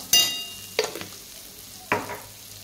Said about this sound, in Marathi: मिरची तेलात परतून घ्यायची। त्यानंतर आपल्याला कोथिंबीर टाकायची आणि सर्व मिश्रण हलवून घ्यायचं।